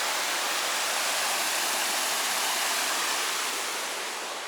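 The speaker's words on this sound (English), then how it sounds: "One waterfall, but it isn't the one." A waterfall on a highlands hike, a steady, full roar of rushing water that is close and continuous with no other sounds.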